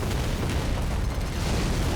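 Huge explosion in the Switch shoot-'em-up Raiden V, a dense, sustained rumbling roar of booms filling the whole moment, loud and continuous with no talking.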